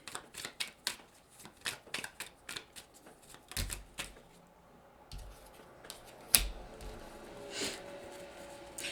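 Tarot cards being shuffled in the hands, a run of quick papery riffles and flicks with brief pauses, close and fairly quiet, with no talking.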